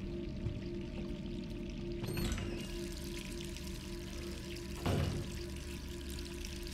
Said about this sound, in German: hier hat irgendjemand vergessen, das Wasser auszustellen